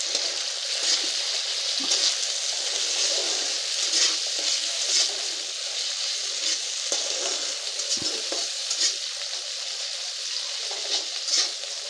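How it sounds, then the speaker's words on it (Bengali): Thinly chopped tomato stirred into onions already frying in a pan, with a continuous loud sizzle and occasional scraping of the spoon, no voices. "আমার পেঁয়াজ এখানে ভাজা হয়ে গেছে, এখানে আমি একটা টমেটো দিয়ে দেবো।"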